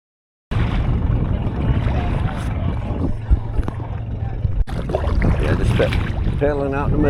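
A kayak or canoe is paddled out to a sandbar on Torch Lake, with water and paddle sounds under heavy wind buffeting on the microphone while people talk nearby.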